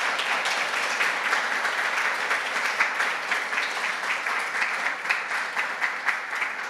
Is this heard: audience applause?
yes